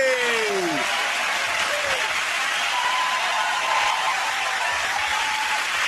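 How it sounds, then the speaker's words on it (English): A studio audience at a comedy panel show applauds in a sustained, even wave of clapping, loud and close, while a voice briefly talks over it near the start. "give it a round of applause for James, Sarah and Andy!"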